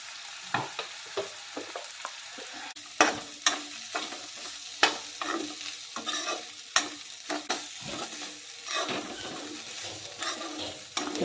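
Onion roasting with salt in a pan, a continuous frying sizzle broken by frequent scraping stirs and clinks of a spoon against the pan, close up and irregular, without speech.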